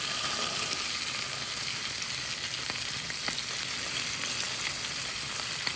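Trout stuffed with bacon frying on a griddle, a steady, loud sizzle and hiss that runs unbroken throughout, with a few faint pops and stirring sounds.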